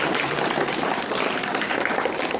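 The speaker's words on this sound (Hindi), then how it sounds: "एक बार दर्शकों को जोरदार तालियां।" Spectators give loud applause for a young Class 1 schoolgirl, a dense, sustained clapping that holds steady and close for a couple of seconds.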